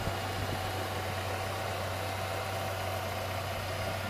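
A 1999 Ford Ranger pickup with a 2.5 engine idling smoothly, a steady low hum with a constant drone and no revving, heard close and alone.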